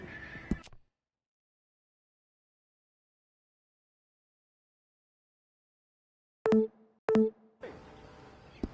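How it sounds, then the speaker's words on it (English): A horse in a PS4 video game gives short whinnies and snorts, with a brief burst at the start, then a long silence before two clipped calls and a trailing rustle of game ambience. "Get on the horse when you're ready."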